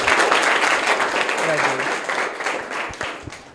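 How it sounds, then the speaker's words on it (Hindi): Students in a private school classroom burst into loud, dense clapping that thins and fades toward the end, with a few voices mixed in. "जोरदार तालियां इनके लिए।"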